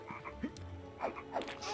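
A frog in the PS1 game MediEvil croaks in several short rasping bursts, faint and close, with no talk over it.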